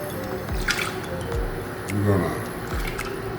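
Ingredients for a peach dump cake pour into a baking dish, giving a few soft wet splashes and drips beneath steady talk.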